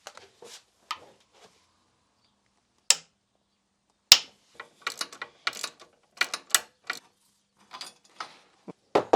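A ratchet undoing an engine mount bolt on a Yamaha XJ6 motorcycle: sparse clicks at first, then quicker bursts of close, crisp ratcheting separated by short pauses.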